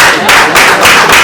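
Applause from the audience at a press conference, a short loud burst of many hands clapping in waves, close and dense.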